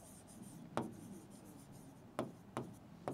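Marker or chalk strokes on a board during a higher maths lesson, a few faint, brief scratches at uneven intervals in a quiet room.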